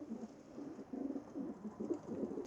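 Racing pigeons bred for long-distance competitions coo softly and steadily, a low, repeated murmuring burble heard close up and alone.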